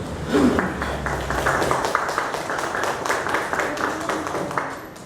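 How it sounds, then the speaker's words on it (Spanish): Warm applause from a seminar audience welcoming a doctor as the speaker at a human rights session, a steady dense patter of clapping held at even strength for several seconds. "a quien por favor les brindamos un caluroso aplauso"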